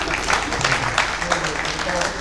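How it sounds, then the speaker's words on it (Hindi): A seated audience at a national Hindi kavi sammelan poetry gathering in Bhiwani keeps up a steady, rattling round of clapping, with a voice talking over it. "एक बार तालियां पीट दो।"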